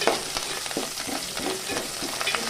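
Curry leaves and onions frying in oil for a spicy Nellore-style drumstick curry, a steady close sizzle with stirring clicks and scrapes throughout, no talking.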